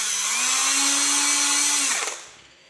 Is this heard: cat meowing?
no